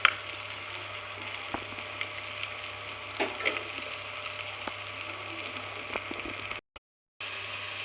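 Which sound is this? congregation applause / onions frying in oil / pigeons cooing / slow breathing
onions frying in oil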